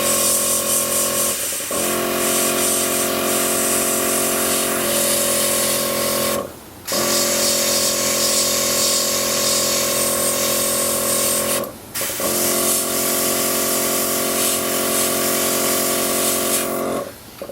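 An airbrush sprays paint in long, steady hissing bursts while preshading a Megatron model, loud and close, with three brief pauses between the streams.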